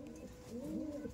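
A pigeon in a loft gives one soft, close coo that rises and falls over about a second, alone against quiet background noise.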